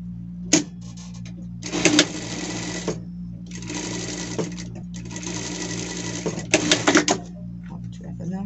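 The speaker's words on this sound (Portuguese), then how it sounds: "a gente vai fazer uma costura aqui" A sewing machine stitches a hem on a jeans shirt in several loud, close runs of rapid whirring separated by pauses, with a steady low hum underneath and a few clicks and knocks between bursts.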